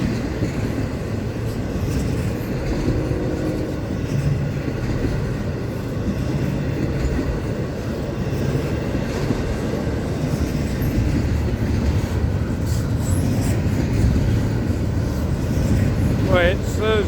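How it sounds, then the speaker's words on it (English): An FEC freight train rolls past near the State Road 207 crossing in St. Augustine, Florida, a steady continuous rumble with wheel clatter lasting throughout, close and fairly loud, with a voice speaking briefly over it. "Look at that train."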